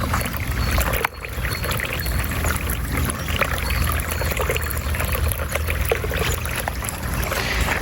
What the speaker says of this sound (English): this is a water feature right here that I put in